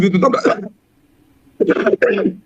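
A man who has been unwell for several days coughs harshly and throatily during a televised discussion, with two close rough bursts and a short quiet pause between them.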